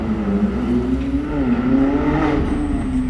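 A Ferrari 458 sports car arrives fast on a Cannes street with a loud, close engine note that climbs and shifts in pitch as it draws near. It sounds like one sustained pass.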